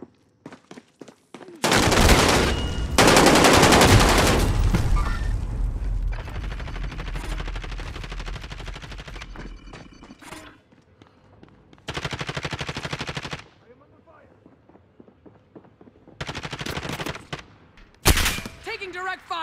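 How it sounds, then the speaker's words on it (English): A C58 rifle in a shooter video game fires in long, loud sustained bursts that are close and heavy. Further bursts follow after pauses, with game voice lines and other sounds in between. "Taking direct fire."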